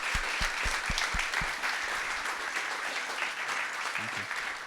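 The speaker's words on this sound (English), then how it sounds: "Let's give a big round of applause." Audience applause at a founders and venture capital fireside chat, a sustained round of clapping with a few distinct loud claps early on and faint voices underneath.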